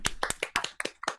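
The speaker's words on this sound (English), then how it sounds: "round of applause" A small online audience claps for musicians after a holiday digital concert, a sparse scatter of separate hand claps from unmuted participants, about a dozen sharp slaps in quick uneven succession.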